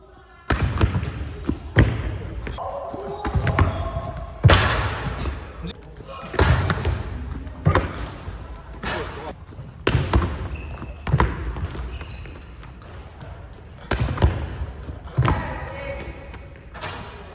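Repeated solid thuds of a football being struck and caught, with bodies hitting the ground in between, arriving every second or two in an irregular rhythm.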